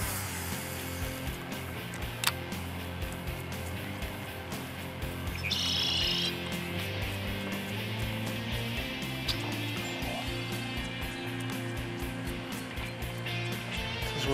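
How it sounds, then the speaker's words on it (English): Red-winged blackbird calls chirp repeatedly against a busy outdoor background, with brief bursts of song standing out now and then. "Red-winged blackbirds are so pretty."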